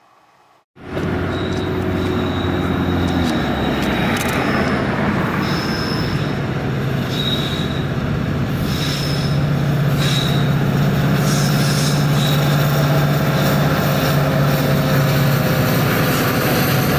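A freight train led by a Norfolk Southern SD70ACe locomotive rolls past close by, a loud steady roar of rail cars with sustained high metallic wheel squeals ringing over it for the whole stretch.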